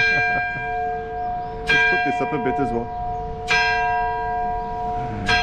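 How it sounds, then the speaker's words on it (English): Church bells ring loudly at close range inside the bell tower of St Publius Church in Floriana, Malta, with heavy clangs every couple of seconds over a sustained metallic hum, and someone speaks briefly between strikes. "we're going to show you the bells anyway"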